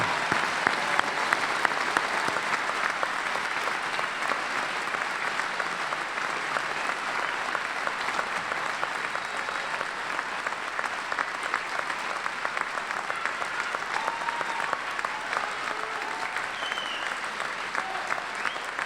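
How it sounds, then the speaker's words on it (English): Sustained applause from a large audience at a fall university graduate commencement, honoring doctoral degree recipients; steady dense clapping holds evenly for nearly twenty seconds with no speech over it. "Let's offer all of these doctoral degree recipients a round of applause."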